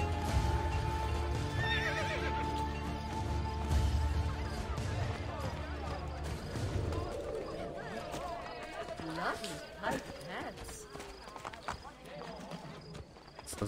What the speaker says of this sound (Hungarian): De nem a lovat akartam hívni